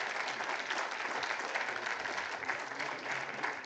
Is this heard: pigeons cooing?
no